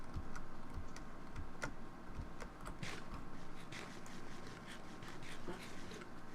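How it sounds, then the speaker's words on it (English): Loud, rapid clacking of computer keys, continuous and close, with irregular bursts of keystrokes over a faint background hum. "Someone has a very loud keyboard."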